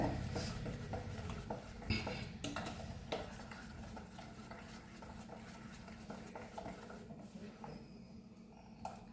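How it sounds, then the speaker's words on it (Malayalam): Palappam batter mixed with sugar and salt in a metal pot, a spoon scraping and clinking against the sides in a steady stirring rhythm, quiet and close with no voices. "ഉപ്പിട്ടിട്ട് പഞ്ചസാര ഇട്ടുണ്ട് നന്നായിട്ട് മിക്സ് ചെയ്ത് വെക്കാം"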